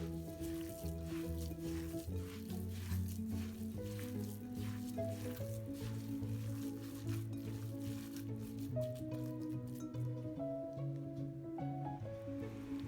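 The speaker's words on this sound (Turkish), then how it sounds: "bir adet rendelenmiş soğanı ilave ediyoruz ve karıştırarak iyice yoğuruyoruz" Stuffing mixture with dried basil and grated onion is kneaded by hand for stuffed zucchini dolma, giving soft, wet squishing and squelching sounds that continue steadily at close range over background music.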